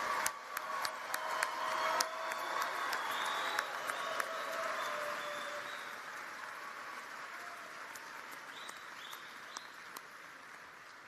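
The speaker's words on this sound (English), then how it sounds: "Let's have another round of applause for all the graduates named today in today's program." Sustained applause from a large crowd for graduates at a university commencement ceremony, steady dense clapping that holds at an even level throughout with a faint continuous tone above it.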